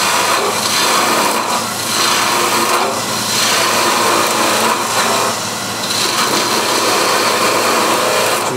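Walnut wig and hat stand spinning on a wood lathe while a gouge thins the spindle from the tailstock end, giving a steady, loud whirring cut with recurring scraping swells throughout.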